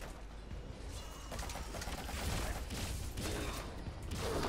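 Dense gunfire in Metal Gear Solid 5: The Phantom Pain, a steady noisy barrage of overlapping shots and crashes that builds slightly louder over several seconds with no talking.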